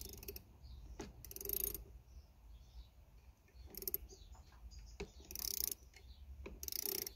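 A 12mm ratcheting spanner working on a Honda Accord handbrake adjustment, heard as short bursts of quiet close ratchet clicking separated by pauses, over a faint background.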